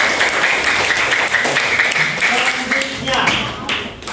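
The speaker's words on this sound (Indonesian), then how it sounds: "Kita berikan tepuk tangan untuk kelompok 2" A classroom group applauds steadily for a few seconds, the clapping fairly loud and close, with voices mixed in beneath it.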